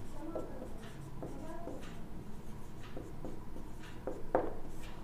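Chalk or pen writing quadrant names on a board during a coordinate geometry class, soft scratchy strokes and taps in short bursts with brief pauses, close and fairly quiet under a low room hum.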